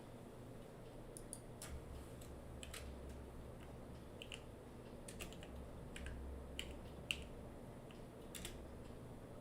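Rapid, irregular clicks of typing on a computer keyboard, quiet and close, continuing for several seconds with no talk.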